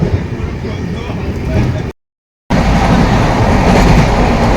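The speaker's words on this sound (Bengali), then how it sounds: "জিপি থেকে ট্রেনটা আমাদের ছেড়ে দিয়েছে, এবার আমরা একদম বাড়ির পথে রওনা হয়ে যাচ্ছি" A passenger train runs on the rails on the way home from Sikkim, giving a loud, continuous rumble with faint clickety-clack, cut by a short silent gap, with people talking under the noise.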